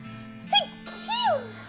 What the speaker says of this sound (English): Oh, so sorry, guys. Had to sneeze.